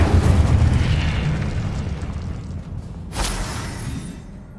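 An Incendio fire spell in Hogwarts Legacy bursts out as a loud, low roaring whoosh that slowly fades, with a sharper crackling flare about two-thirds in, heard alone without speech.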